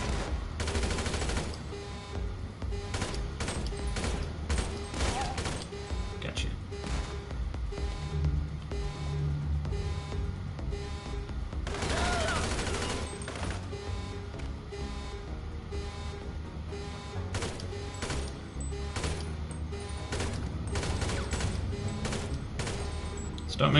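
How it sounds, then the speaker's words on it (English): Rapid assault rifle bursts in a GTA game rattle on and off over engine and vehicle noise and game sounds, with continuous busy action throughout. "Assault rifle."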